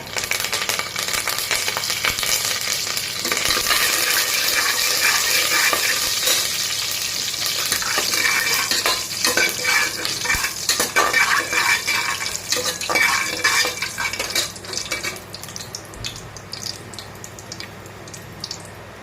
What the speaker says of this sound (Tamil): கடுகு ஜீரகம் பொறிஞ்சு வரட்டும்